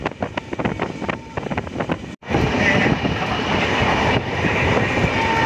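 Weekly express train running from Mysuru to Bengaluru, heard from on board as a steady, loud rumble and rattle of carriages, with rhythmic clatter early on and wind rushing past after a brief dropout.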